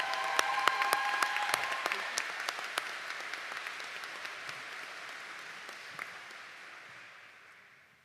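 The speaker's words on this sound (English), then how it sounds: "One more round of applause for Norma Mills," A large audience claps steadily at a college commencement ceremony, with a few sharper individual claps at the start, before the applause gradually fades out.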